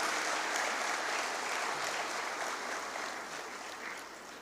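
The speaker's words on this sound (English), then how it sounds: "Let's give them another round of applause." Audience applause at a Grenada Boys Secondary School graduation ceremony, following the graduates' musical performance: a dense, steady wash of many hands clapping, moderately distant and slowly tapering off.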